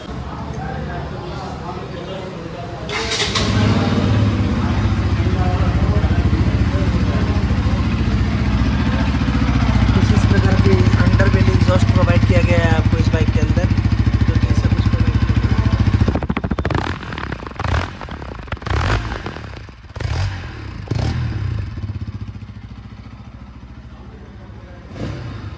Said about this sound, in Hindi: इससे पहले मैं आपको इसे एग्जॉस्ट नोट सुना देता हूँ।